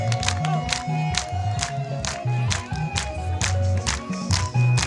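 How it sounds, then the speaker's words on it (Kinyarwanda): A church congregation claps and cheers during lively worship. Rhythmic bursts of clapping ride over a pulsing low beat, with a dense crowd roar throughout, loud and close. "maboko hejuru tuyongera amashyi menshi cyane"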